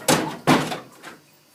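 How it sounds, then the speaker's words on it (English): A door slammed shut twice in quick succession, two loud close thuds followed by a softer rattle as it settles, with no voices. "I'm going to have to shut the door quickly."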